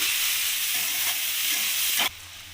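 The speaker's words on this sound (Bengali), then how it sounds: "পেঁয়াজ, কাঁচা লঙ্কা, টমেটোটা আদা রসুনের সাথে ভালোভাবে ভেজে নেব আমি" Onion, green chili and tomato fry in hot oil with ginger and garlic, a steady close sizzle with stirring that cuts off abruptly near the end.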